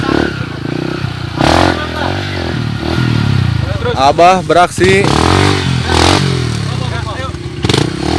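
A custom modified enduro motorcycle revs on a trail at an enduro cross ride, its engine rising and falling with clattering bursts while people talk and call out nearby.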